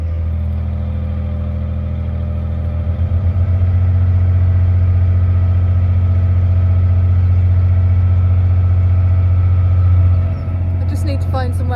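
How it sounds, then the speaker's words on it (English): A narrowboat engine chugs steadily at low pitch for a long stretch on a canal, the throb rising slightly partway through before settling, with a brief clatter at the end. "this time I'm approaching on the boat"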